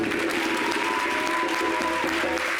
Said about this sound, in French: Est-ce qu'on peut applaudir Bertie?